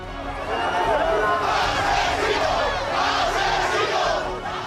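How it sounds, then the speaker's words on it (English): Hostile crowd of protesters in flood-stricken Paiporta near Valencia shouting 'asesino' at Spain's king and queen, a dense, sustained roar of many voices with rising chant-like surges, close and loud throughout. "A hostile crowd greeted them with cries of asesino, or killer in English"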